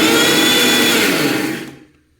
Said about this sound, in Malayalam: നമ്മുടെ കൊച്ചുള്ളി, മുളക് പൊടി, പുളി, അതുപോലെ തന്നെ ഉപ്പ് എല്ലാം കൂടി എടുത്തിട്ട് നമുക്കൊന്ന് അരച്ചുകൊണ്ട് വരാം